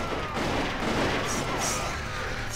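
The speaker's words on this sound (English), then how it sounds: "It's another cannon." Cannon fire in the video game Apocalyptica, a dense, continuous roar of booming blasts and rumbling explosions, loud and close, with no voices over it.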